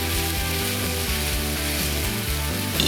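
Butter foams and sizzles in a pan with olive oil, a steady crackling hiss that runs without pause over a faint low hum.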